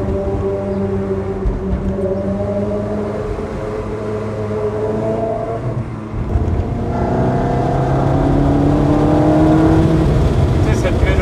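A Ferrari's engine note echoes through a small village, a steady multi-toned drone that swells louder and rises in pitch toward the end.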